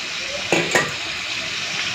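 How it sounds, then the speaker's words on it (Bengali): Water is poured into a hot pan of potato and paneer curry, two sharp bursts of hissing sizzle close by, then a steady frying crackle with light stirring. "এরপরে দিয়ে দিচ্ছি জল"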